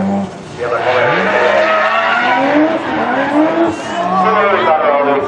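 A drift car, driven by Marko Brusila at the Kemora round of the 2012 Finnish Drifting Championship, skids hard with a loud sustained tire squeal and revving engine, while a commentator talks over it.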